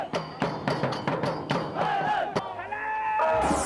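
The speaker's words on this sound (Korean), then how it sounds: "한국의 붉은 악마 못지않은 응원과 함성으로 온 열정을 쏟아내고 있다" Thai football fans cheer and shout in a loud rhythmic crowd chant, with sharp repeated beats punctuating the steady roar.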